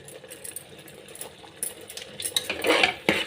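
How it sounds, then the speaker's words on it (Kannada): Tomato bath mixture with turmeric being stirred in a pan: light scraping and clinking of a spoon against metal, soft at first, then a denser, louder run of scrapes near the end, with no talking. "ಚೆನ್ನಾಗಿ ಮಿಕ್ಸ್ ಮಾಡೋಣ"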